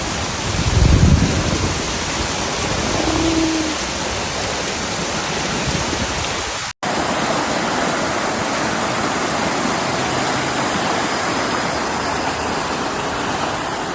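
Steady, loud rush of monsoon storm rain and fast-flowing creek water in Prescott Valley, Arizona, a dense hiss with no voices, briefly cutting out midway before continuing.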